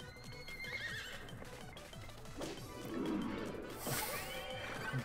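A horse neighs from the Horse Whisper skill in the video game Miitopia. A whinny is heard over rhythmic clip-clopping hooves, followed by crashing impact sounds from the game.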